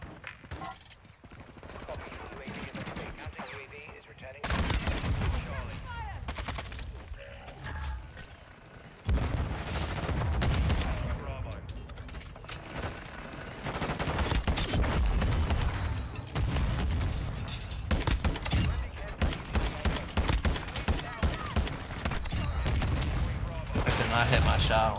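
Dense bursts of gunfire and heavy rocket explosions from Modern Warfare II, loud and continuous across the clip, with booming impacts and rapid shots layered on one another.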